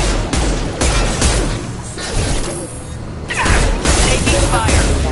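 Gunfire in the video game Mass Effect 2, dense bursts of shots and impacts rattling across the whole stretch, with brief game voice callouts in the mix.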